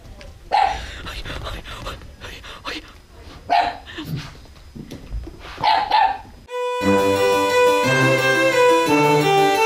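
A dog on a rural farmstead barks in several sharp bursts spaced a second or two apart, close and loud. Then a steady music-like tonal sound abruptly takes over.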